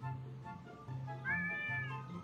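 A cat meows close by, a drawn-out rising-and-falling call over a low repeating electronic background tone.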